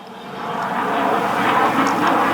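Russian MiG-35 fighter jet performing at an airshow, a steady broad jet roar that holds loud and constant, slowly swelling over a couple of seconds with no voices.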